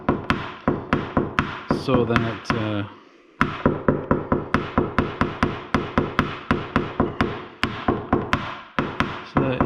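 Rapid metal taps knock down dent edges and a sharp crease on a Pontiac Solstice body panel during paintless dent repair, a steady run of close, crisp strikes with a brief pause and a few words spoken early.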